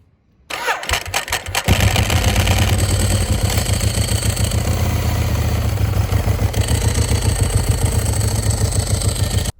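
A Ducati 1198 SP motorcycle engine cranks and starts, then idles loudly with a steady mechanical clatter and rapid rhythmic ticking throughout, close by.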